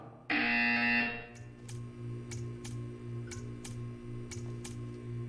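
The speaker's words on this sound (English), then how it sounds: "You will hear a buzzer." A loud electronic buzzer sounds for about a second, followed by quiet rhythmic ticking clicks against a low hum.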